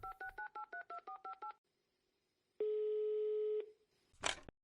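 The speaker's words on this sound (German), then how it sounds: "Ich rufe an." A phone number is dialed on a telephone keypad as a quick run of about ten DTMF beeps. After a pause comes a single long steady call tone, then a short burst of noise.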